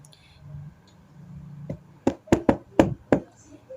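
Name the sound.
knocking on a door in a fairy tale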